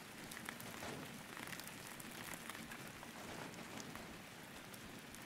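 Steady rain playing as a background recording, a continuous even patter of drops on a surface at moderate volume with no other sounds over it.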